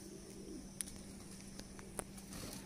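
Soft, low cooing from fancy pigeons kept by a breeder, faint and steady in a quiet indoor-sounding space, with a couple of sharp clicks.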